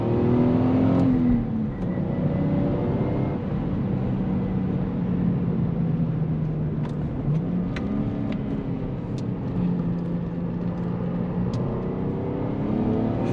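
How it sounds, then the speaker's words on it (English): A manual Lexus IS300 sedan drives steadily on a tight back road with a continuous engine hum and tire roar, the engine note rising and falling slightly as it shifts through its five gears; close and loud throughout. "Let's see how this car will do on a more tight back road here."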